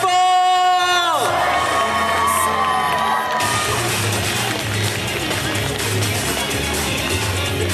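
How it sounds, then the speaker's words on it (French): An audience at a cosplay costume parade at an anime and otaku festival cheering, whooping and applauding loudly, a crowd roar that swells after music cuts off at the start. "Applaudissez-le très très fort."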